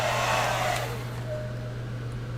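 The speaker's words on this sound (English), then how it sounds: "let me just speed this up a little bit with the hair dryer" A hair dryer runs steadily while drying a mold for a ghoul neck and chest pattern, a continuous loud whirring drone with a low hum, heard alone without talk.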